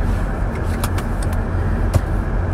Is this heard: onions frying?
no